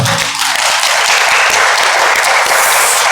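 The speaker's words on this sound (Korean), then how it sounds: "우리 하나님께 영광의 박수 돌려드리겠습니다." A church congregation applauds to give glory to God during a worship service, a dense, steady wash of many hands clapping that fills the whole stretch without pause.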